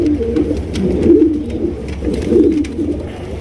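Large pigeons cooing at a breeding farm, deep throaty coos rising and falling in close, continuous overlapping rounds from several birds, loud with no talking.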